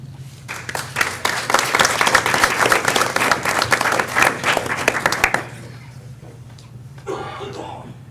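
A school board meeting audience applauds to welcome a seventh-grade student speaker, a dense steady burst of clapping that fills the room for about five seconds before trailing off, with faint murmurs afterward.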